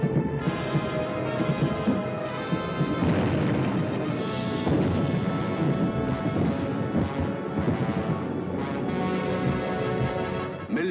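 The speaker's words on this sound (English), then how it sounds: "Millions of firebombs rained down on the great city of London." Firebombs burst during the Blitz on London in a dense, continuous barrage of crashes and booms, loud and rumbling with overlapping impacts.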